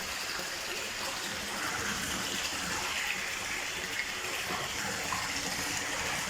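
Motor pump water gushing from a pipe into a date palm garden in Saudi Arabia, a steady broadband rush of flowing water that stays constant and fairly loud throughout.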